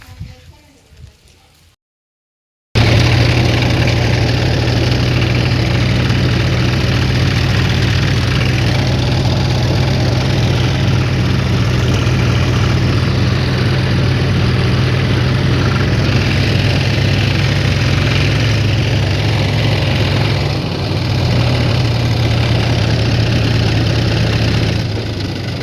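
A tractor engine idles at close range, a loud steady low throb with a persistent hum that runs unbroken after a brief quiet start and dips slightly near the end.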